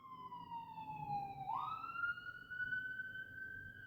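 An ambulance siren wails nearby outside a hospital, a single sweeping electronic tone that dips and rises again as it passes, fairly faint beneath a low background rumble.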